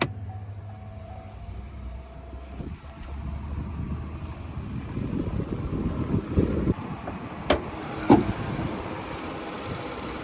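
A 3.6-liter direct-injection V6 in a 2021 GMC Canyon Elevation pickup idles under the open hood, a steady low engine hum with a few light clicks and bumps toward the end.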